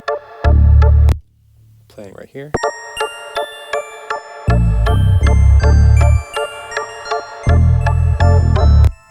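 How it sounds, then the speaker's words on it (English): Bright, ringing DX7 synth bell tones play over a thumping beat, with a voice speaking briefly in the middle as the bells continue. "there's another Analog Lab. This one is bells from a DX7."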